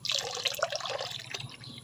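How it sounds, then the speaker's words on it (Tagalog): Diluted triple 14 fertilizer poured into a bucket of water, a steady close trickle and splash with light dripping, running alone throughout. "Sa isang timba na tubig, ilagay natin itong in-overnight natin na triple 14."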